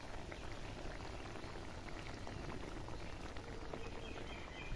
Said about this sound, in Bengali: পরিমাণ মতন জল দিয়ে দিচ্ছি।